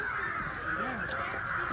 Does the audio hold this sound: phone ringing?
no